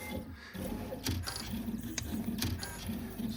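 A Neoden YY1 pick and place machine runs a test cycle, giving steady mechanical whirring and gear chatter with sharp periodic clicks and ticks, moderately close and without talk.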